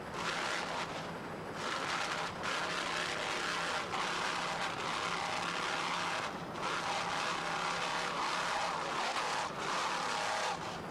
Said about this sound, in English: These two 925 horsepower Cobra Power inboards sound excellent.